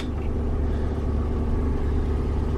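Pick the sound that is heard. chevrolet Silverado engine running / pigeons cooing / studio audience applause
chevrolet Silverado engine running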